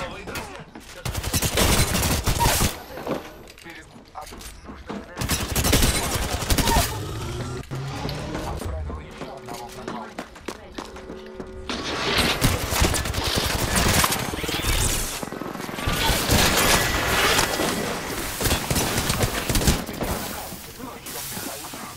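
Gunfire in Apex Legends comes as loud, rapid bursts of automatic shots, broken by short pauses, with heavy volleys clustered at the start and through the second half.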